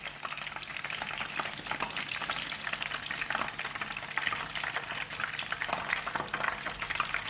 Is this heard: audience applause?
no